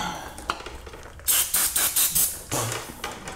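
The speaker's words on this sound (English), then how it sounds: "So now that you spray the brake clean, it dries a lot of it out" Brake cleaner sprayed on a Brembo brake caliper of a Ducati Multistrada V4S, several short loud hissing bursts in quick succession followed by a longer spray, close up.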